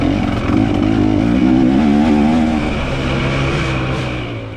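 Dirt bike engines at a hare scramble race, a loud, close, steady two-stroke drone with wavering pitch as intermediate riders close in to overtake, heard without talk.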